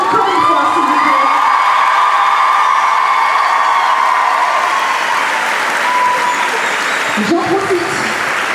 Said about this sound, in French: the winners, qu'on peut applaudir encore une fois, s'il vous plaît.